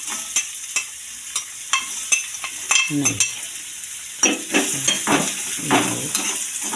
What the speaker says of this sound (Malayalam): എണ്ണ ഒഴിച്ചിട്ട് അതിലേക്ക് നമ്മൾ ഈ അരിഞ്ഞ വെച്ച ക്യാരറ്റിനെ ഇത് വഴറ്റിയെടുക്കണം